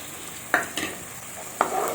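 Spiced masala frying in oil, with tomato paste being stirred in, gives a low sizzle under two or three sharp scraping strokes of a spoon against the pan. Nobody speaks.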